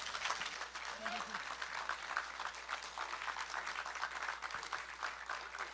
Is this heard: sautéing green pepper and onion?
no